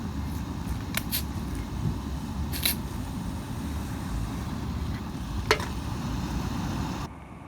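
A pot of water boils up on a small stove at a stealth campsite, giving a steady bubbling, hissing rumble at close range with a few light clicks and taps over it, then dropping away abruptly near the end.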